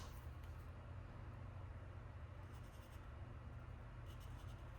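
A marker scratching short strokes onto a carburetor float bowl from a 1980-84 John Deere Liquifire during a rebuild, faint and close against a steady low background hum.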